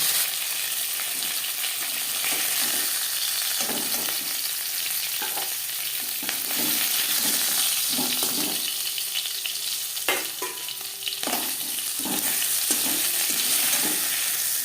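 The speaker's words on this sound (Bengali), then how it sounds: "মাছ ভেজে নেওয়া করেছি মাছের মাথা ভেজে নেওয়া করেছি" Oil hisses and sizzles continuously as a fish head fries in a pan, with occasional clatters and stirring knocks breaking through the steady crackle.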